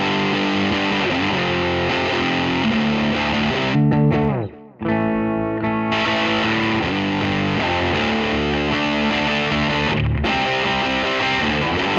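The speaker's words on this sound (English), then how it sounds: "what's the distortion up sound like?" An electric guitar plays big chords through a modded Ibanez Sonic Distortion pedal with the distortion turned up, a thick saturated tone sustained throughout, broken by one short gap near the middle.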